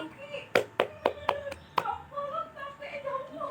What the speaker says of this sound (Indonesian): Beri aplaus kepada Murni.